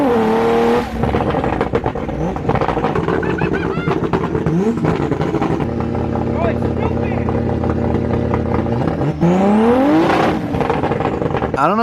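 A turbocharged BMW E46 M3 running on a dyno, very loud and close, engine revving up in rising sweeps, holding high howling revs, then dropping and climbing again, with turbo whine over the roar.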